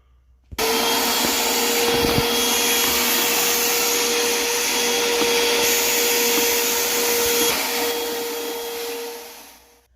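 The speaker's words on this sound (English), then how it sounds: "I guess we better clean up our mess. Let's get the vacuum." A vacuum cleaner inside a 1978 motorhome switches on and runs steadily with a loud whining drone and broadband rush for several seconds, then begins to wind down.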